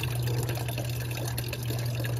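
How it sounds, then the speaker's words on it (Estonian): Water runs and splashes steadily over a camera outdoors on a rocky stretch during a Balkan van trip, a close, continuous wash with a low hum beneath and no voices. "Naljakas, kuidas see vesi siin kaamera peale."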